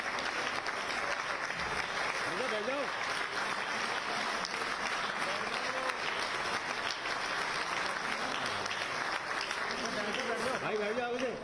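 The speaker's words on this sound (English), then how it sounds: "Can we have some round of applause" Sustained audience applause at the World Dairy Summit, a dense, steady roar of clapping from a large hall crowd, with voices and brief shouts mixed through it for the full duration.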